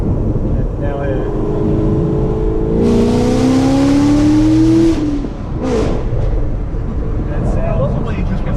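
A Chevy car engine with an X-pipe exhaust revs up into a rising roar, holds for a couple of seconds and then drops back, loud and close over steady road and engine noise.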